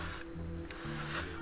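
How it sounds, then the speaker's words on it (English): An airbrush spraying Alclad2 gloss black base paint onto a model: soft airy hissing bursts, two or three short passes with brief pauses between, close and fairly quiet, no voices. "And I spray."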